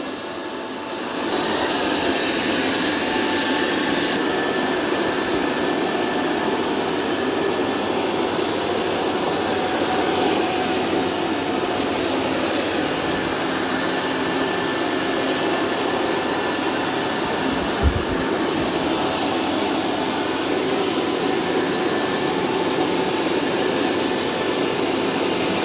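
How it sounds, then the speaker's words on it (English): A eufy X10 Pro Omni robot vacuum runs with a steady, loud whooshing motor hum that holds constant throughout, with one faint bump partway through and no talking. "It's doing a really good job of vacuuming."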